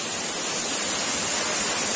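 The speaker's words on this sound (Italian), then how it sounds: "E c'è anche una mini cascata." A small waterfall in a river pours steadily, giving a continuous broadband rush of splashing water, close and fairly loud, with no voices over it.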